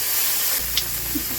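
Small Japanese puti fish fry in hot oil with a steady, loud sizzle and a couple of brief pops and crackles.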